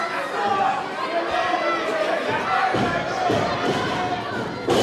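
A rowdy wrestling crowd chatters and shouts in steady support of Ken Dixon during his match against Brandon Scott, a dense continuous roar with a few thuds and swells.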